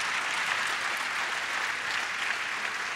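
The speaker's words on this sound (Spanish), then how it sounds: "un fuerte aplauso para Osvaldo" A church congregation claps loudly and continuously, a dense, even wash of many hands applauding throughout with no talk over it.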